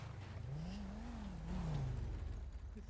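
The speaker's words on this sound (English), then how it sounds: "You ran my tow truck again." A tow truck engine in a video game hums and revs close by, its pitch rising and falling over a few seconds with a steady low drone beneath, with no talking.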